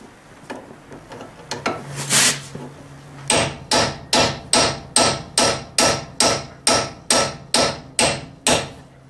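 Hammer blows pounding out a ball joint on a Chevrolet Tahoe's upper control arm, hard metal strikes, a few scattered hits then a steady run of about fifteen loud, evenly spaced ringing impacts, close up with no talking.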